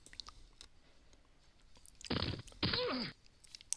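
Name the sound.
crunching a piece of Dorito chip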